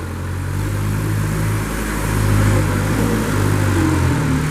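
A 2007 Moffett M55 truck-mounted piggyback forklift runs close by, its engine droning loud and steady with low rumbling tones that rise slightly midway as it works, no voices.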